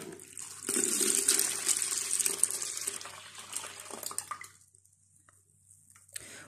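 Lemon juice poured into a plastic bucket, a steady liquid splash and gush that runs loud for several seconds, then tapers off into near quiet with a few faint drips.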